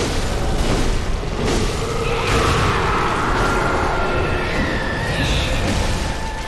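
An enemy's explosion attack in the video game Bloodborne sounds as a loud, sustained booming roar with crackling bursts and rumbling debris over several seconds, no speech.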